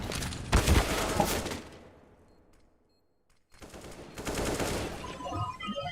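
Rapid automatic gunfire from the video game CS:GO, during a tournament match, rattles in two loud sustained bursts separated by a brief near-silent gap.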